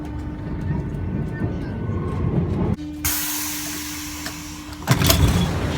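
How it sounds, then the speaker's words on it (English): Inside a train, a continuous rumbling roar fills the carriage, broken by a sudden shift to a loud hiss with a steady hum, then the rumble returns. Faint voices are buried under the noise. "Well, just got off the train,"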